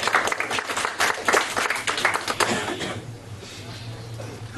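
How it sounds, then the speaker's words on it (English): Audience applause for two volunteers at a live game-style show, dense clapping for about three seconds that then thins and fades to a low murmur. "Give them a round of applause"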